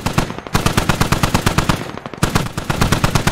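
Automatic weapon fire in the SquadOps video game, loud close rapid bursts of evenly spaced shots with a short pause partway through before firing resumes, no voices.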